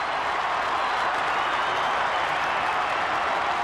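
Crowd at a 1995 Australian football match between Footscray and Fremantle cheering and applauding after a goal, a loud, sustained roar of clapping and shouting with no pauses.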